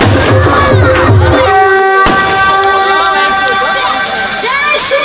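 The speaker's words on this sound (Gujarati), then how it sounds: "શ્રી પ્રશાંતભાઈ કોરાટ, જોરદાર તાળીના ગડગડાટથી આપણે તેમને વધાવીએ" A crowd at an award ceremony in Upleta cheers and shouts to welcome a guest onto the stage, loud and continuous throughout, with whistles and horn-like toots mixed into the din.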